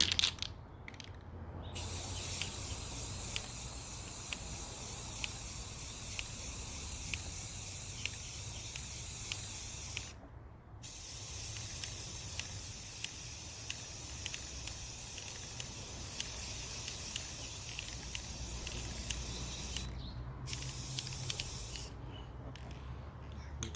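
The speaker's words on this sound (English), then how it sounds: "Round two, spray seal, rinse and repeat." Long, steady hissing bursts of aerosol sealant sprayed onto a chunky-glitter tumbler, each running about ten seconds and separated by brief pauses, close and continuous with a faint rattling of the can.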